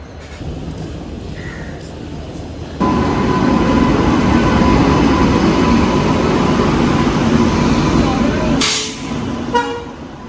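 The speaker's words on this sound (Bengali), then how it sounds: "আমাদের ট্রেন করমণ্ডল এক্সপ্রেস 2 মিনিট লেটে সাঁতরাগাছি স্টেশনে ঢুকলো" The Coromandel Express pulls into Santragachi station, a loud, close rumble of wheels and cars that swells suddenly and holds steady, with a brief sharp squeal or horn burst near the end over low station ambience.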